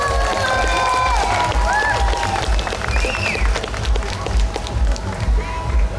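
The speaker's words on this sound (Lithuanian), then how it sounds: "garsesnių plojimų reikėtų" A festival crowd at a public event in Palanga, Lithuania, keeps clapping in a dense, moderately loud patter that thins out toward the end, with voices mixed in.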